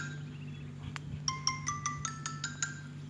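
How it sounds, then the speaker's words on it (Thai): A mobile phone ringtone chimes in a quick series of bright, evenly spaced electronic tones, fairly faint over a steady low hum near a rice field. "สายมาโทรศัพท์มาโทรศัพท์มาพี่น้อง ขออนุญาตรับสายก่อนครับ"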